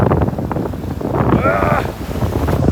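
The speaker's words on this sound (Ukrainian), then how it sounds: "О, перша хвиля, друга, третя і зараз воно вже буде мені по пояс." Ocean waves surge and break on a black sand beach near Auckland, a steady roar with wind buffeting the microphone and a swell rising midway, while a person talks over it.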